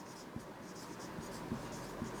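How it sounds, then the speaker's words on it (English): A marker or chalk writing on a board while naming an alkyne, producing faint, scattered taps and light scratches over a quiet room tone. "we'll write over here as alkyne"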